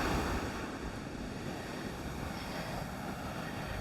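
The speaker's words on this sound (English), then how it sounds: "Okay, the waves just carried this patch up." Ocean waves wash onto a frozen winter beach in New England, a steady broad roar of surf with wind rumbling against the microphone throughout.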